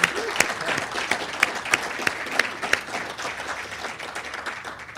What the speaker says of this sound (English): we should really have a round of applause for them.